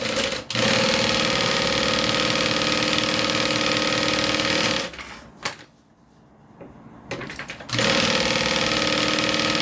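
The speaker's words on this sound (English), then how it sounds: "now we're going to sew this together" Sewing machine stitching fabric pieces of a bag together, a loud steady mechanical whirr with fast needle ticking that runs for about five seconds, pauses briefly, then starts again.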